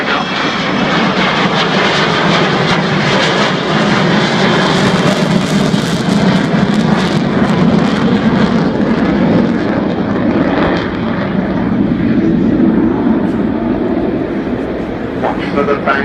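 Avro Vulcan bomber making a slow fly-past at the Farnborough Airshow with undercarriage retracting, a loud sustained jet engine roar that swells and fades gradually, with a commentator talking over it.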